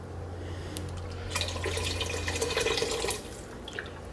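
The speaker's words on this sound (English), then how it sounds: "now we are going to add the liquid and get it up to a simmer" A liter of water pours into a soup pot, a soft splashing and trickling that swells midway and then tapers off, close and fairly quiet, with no voices.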